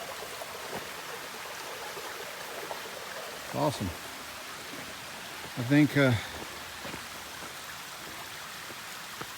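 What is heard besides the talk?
water running off hard rock ledge at Zealand Falls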